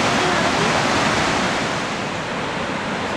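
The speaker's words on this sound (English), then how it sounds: "There's the bottom of Steady Brook Falls," Steady Brook Falls in Newfoundland crashes down at its base, a loud, dense and unbroken roar of falling water that holds steady from start to end with no voices over it.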